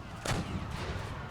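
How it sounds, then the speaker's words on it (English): A tank firing on cannons in the World War I strategy game The Great War, one sharp, loud blast followed by a rumbling decay and scattered distant gunfire. "What is my tanks doing? They're firing towards these cannons,"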